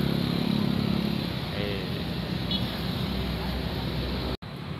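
A motorcycle rides into an underground parking area, its engine a steady close rumble that fills the space before a brief cutout, with a voice talking faintly over it.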